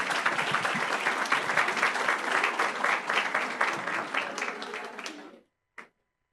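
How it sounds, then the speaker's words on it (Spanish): A conference audience applauds a speaker, Doctor Víctor, with steady dense clapping for about five seconds before it stops abruptly, followed by one brief sound after a pause. "Un aplauso para el doctor Víctor, por favor."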